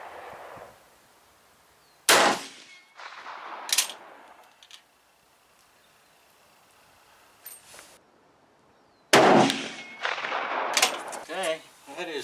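A rifle firing GP-11 ammunition at a shooting range gives a few sharp, loud, separate cracks with echoing tails. Quiet stretches in between hold soft background noise and brief murmurs.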